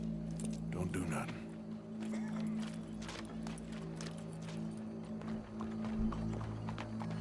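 Horse hooves clip-clopping in the Red Dead Redemption 2 video game, a faint steady rhythm of hoof steps under ambient game sound and a low hum.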